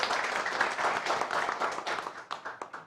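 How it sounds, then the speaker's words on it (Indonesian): Audience applause for a guest named Aldi, a dense burst of clapping that thins into scattered claps toward the end, moderate in level with no talk. "Tepuk tangan sekali lagi buat Aldi."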